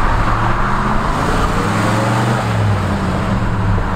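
A 1969 Ford Bronco with manual transmission driving along, a loud, steady engine drone and road rumble from inside the cabin with a slight shift in pitch midway.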